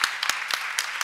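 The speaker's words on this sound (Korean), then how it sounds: "우리 뜨거운 박수 한번 보내주시죠" A conference audience at an international forum session gives applause, heard as a short run of separate claps spaced evenly over about a second, fairly close.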